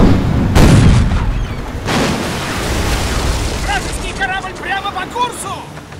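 Two heavy booming blasts of cannon fire in the game Captain Blood, loud and close, with a rumbling tail, followed by a voice talking over game noise.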